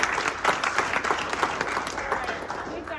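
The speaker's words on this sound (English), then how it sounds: "let me go ahead and close out a round of applause for those two." Audience applause at a Halloween-week gathering, a steady wash of many hands clapping at moderate loudness and continuing throughout with slight rises and dips.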